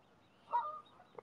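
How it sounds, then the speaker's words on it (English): A single goose honks faintly at a distance on a lake where Canada and greylag geese swim, followed by a brief softer call, over a quiet background. "And lots of Canada goose. Quite a few grey-lag goose."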